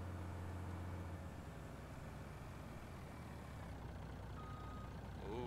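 Truck engine in the Farming Simulator 19 video game, a steady low rumble and drone heard throughout at moderate level with no clear braking event, no talk.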